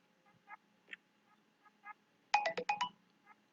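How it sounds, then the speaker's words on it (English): A mobile phone ringtone sounds during a makeup tutorial, starting with a few soft, spaced melodic blips and then breaking into a louder burst of rapid electronic tones close by. "I forgot to turn my phone off."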